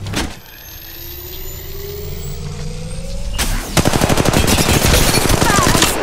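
Rapid automatic gunfire from an Apex Legends Mobile battle bursts in loud and dense around midway, after a stretch of engine-like drone with a rising whine, sustained through to the end.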